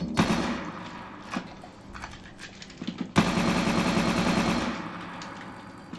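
Gunfire blasts through a window in a homemade OpenGL first-person shooter, with a burst of rapid shots, a pause, then a dense continuous volley that shatters glass, loud and close.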